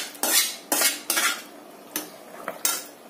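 A spoon scraping and clinking against a metal pot while tempering is stirred into mixed-greens sambar, several distinct bursts of metallic stirring at an uneven rhythm, close and fairly loud, with no talk.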